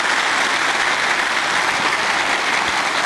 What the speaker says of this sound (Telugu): చాలా ఉత్సాహంగా మిమ్మల్ని మీరు మర్చిపోయి చప్పట్లు కొట్టారే